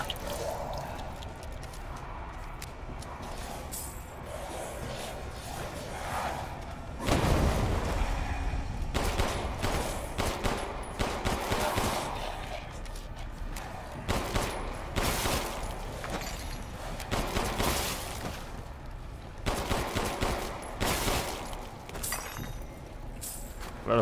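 Gunfire in Resident Evil Village, scattered loud bursts of shots with sharp breaking, shattering impacts over a low, murky game ambience, repeating at intervals across the stretch.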